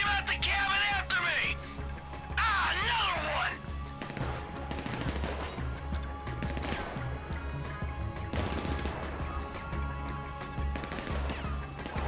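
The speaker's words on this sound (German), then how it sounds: "wir hören die Schüsse" Gunfire in Grand Theft Auto V during a heist mission, with repeated shots and bursts amid game music, sirens and action noise, fairly loud across the scene.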